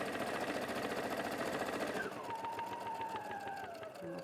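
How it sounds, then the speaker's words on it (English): A domestic sewing machine stitching a straight seam, its fast steady motor whir and rapid needle rhythm running loud at first, then the pitch sliding lower as it slows to a gentler chatter. "I'm going to anchor that stitch, and then just sew straight along here."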